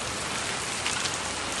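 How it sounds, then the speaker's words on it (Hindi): Heavy rain drums steadily on a vehicle climbing mountain roads, a dense, even broadband hiss with no voices, the downpour having just begun and growing intense. "अब आ रही है बारिश, अब हम थोड़ा सा जैसे जैसे ऊपर चढ़ते जा रहे पहाड़ों में बारिश पड़ती जा रही है।"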